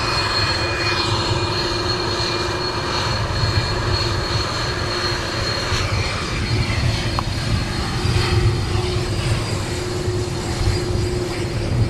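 Airbus A330 jet engines idle at SXM airport beside Maho Beach with a loud, steady, close roar and whine that stays constant throughout and is heard from about a meter from the fence.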